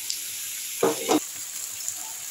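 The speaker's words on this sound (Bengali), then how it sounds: "পেঁয়াজগুলো দেখুন আমার ভাজা হয়ে এসছে, আদা পেঁয়াজ রসুন।" Onion, ginger and garlic fry in two tablespoons of mustard oil in a kadai, a soft continuous sizzle broken by two brief, louder bursts near the middle.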